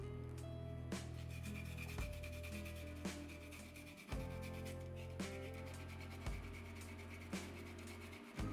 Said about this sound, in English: I'm going to grab the grater, and we're going to grate the ginger.